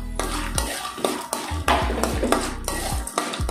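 Peanuts fry with cumin and asafoetida in a pan for Tamil-style puffed rice, with loud scraping and clanking strokes repeating about every half second over a low sizzle, and no talking.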